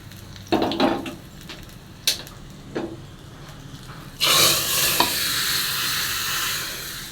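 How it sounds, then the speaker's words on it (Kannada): A few clinks of utensils, then a loud burst of tempering spices for dal sizzling and crackling in hot oil that keeps hissing steadily to the end. "ಅದಕ್ಕಿನ್ನು ಒಗ್ಗರಣೆ ಇಟ್ಟಿದ್ದೇನೆ ನಾನು"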